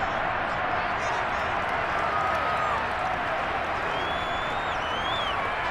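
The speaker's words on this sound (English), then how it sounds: "Plenty of shouts from this crowd as they watch the replay" Virtual stadium crowd in the Madden NFL 23 football video game roars and shouts continuously during a replay, a dense, steady wall of cheering with a few whistles rising above it.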